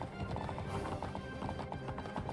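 Horse hooves clip-clop in a steady, rapid rhythm in the video game Wild Horse Islands, loud and continuous, with no talk.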